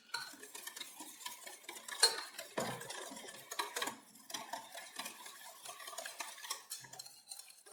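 A whisk clinks and scrapes rapidly against a bowl in a steady rhythm as milk is poured into custard, with a soft liquid trickle and occasional utensil knocks.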